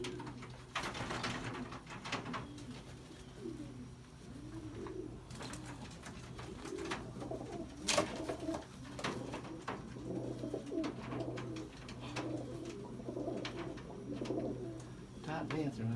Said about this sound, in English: It's a beautiful pigeon here.